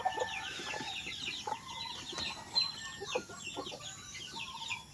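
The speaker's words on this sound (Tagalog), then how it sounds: "Yan, dalawa nating sisiw na napisa." Backyard chickens with two newly hatched chicks, scattered soft clucks and thin high peeping calls at close range over a quiet farmyard background, with no talking.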